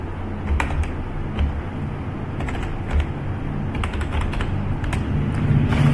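Rapid, uneven keystrokes on a computer keyboard as a PAN number is typed in, close and clear, with short bursts of clicks and no talking.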